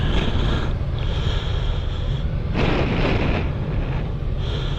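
Honda Gold Wing DCT touring motorcycle with seven-speed dual-clutch transmission, riding in tour mode: a steady, loud rumble buried under heavy wind buffeting across the microphone, with a brief surge partway through.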